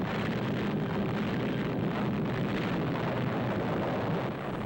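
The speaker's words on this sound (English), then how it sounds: "This is bomb number 6, a new atomic weapon, not an improvement of an old design." Atomic bomb test explosion, a new atomic weapon detonated at a ground test site rather than dropped from the air, heard as a sustained, loud, dense roar with no break, like a continuous rumbling blast.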